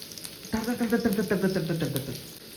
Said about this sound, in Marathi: चला पिवळा रंग येईपर्यंत त्याला तळून घ्यायचं